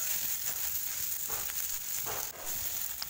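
Chopped garlic, ginger and green chillies fry in oil for a Mangalorean pork pepper masala, a soft, steady sizzle with light stirring, fairly faint and without voices.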